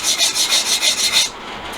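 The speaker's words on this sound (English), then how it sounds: "Then we smooth it with sandstone." A piece smoothed by rubbing it with sandstone, seven even rhythmic scraping strokes close up, then a quieter pause at the end.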